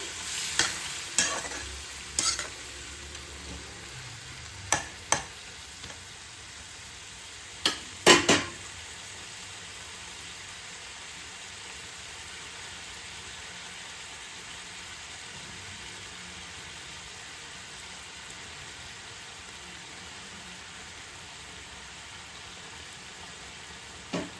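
Spice masala cooks in a pan with a faint, steady sizzle, broken by a few sharp clinks and scrapes of a spoon in the first seconds and then left quiet and even.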